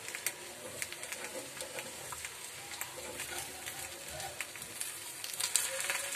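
A ghavan rice crepe sizzles steadily in a hot pan after being flipped, a dense close frying hiss with faint crackles and light scraping throughout, no voices.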